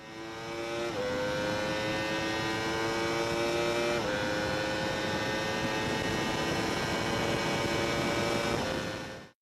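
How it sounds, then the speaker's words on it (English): A 998cc liquid-cooled inline four-cylinder motorbike engine on a 2017 model superbike, running loud and steady close by, with its howling pitch stepping up at gear changes about a second and four seconds in. "a 998cc liquid-cooled inline 4-cylinder motorbike"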